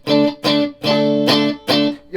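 Electric guitar on the middle pickup driven through a TC Electronic El Cambo tube screamer pedal plays five chopped, loud distorted chords in a stop-start rhythm, each ringing briefly before cutting off.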